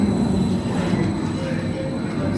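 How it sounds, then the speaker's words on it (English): A train pulls into Jungfraujoch station at the top of Europe, a steady, loud rumble of wheels and carriage noise filling the platform, with people talking nearby. "The train has arrived."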